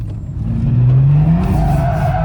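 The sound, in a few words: BMW M2 F87 N55 engine revving while drifting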